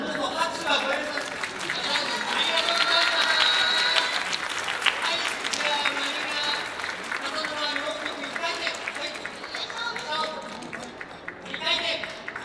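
Audience applause at an Edo daikagura performance, a long, full round of clapping with crowd chatter and a few voices mixed in, swelling and then easing off.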